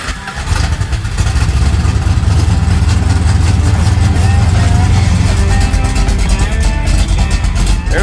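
Plymouth Road Runner V8, a C-body car, runs loud and steady close by, a rough low rumble that holds through the clip while it is driven through the gears, with faint voices underneath.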